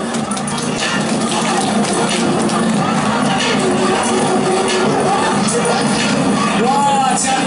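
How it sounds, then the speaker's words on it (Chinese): A crowd at an outdoor temple cultural festival performance claps and cheers in a dense, loud, continuous roar, with scattered shouts and whoops mixed into the babble. "掌声鼓励"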